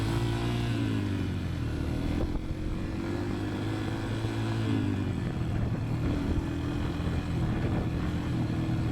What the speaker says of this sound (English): I'm starting to get used to the bike, using up and down gears,